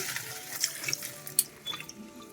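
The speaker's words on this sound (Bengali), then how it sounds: "এখন আমি শাকটা একটু ভিজিয়ে রাখি" Water runs and splashes into a sink or basin to soak fenugreek greens in a home kitchen, a soft steady stream with small drips and clinks, fairly quiet and with no speech.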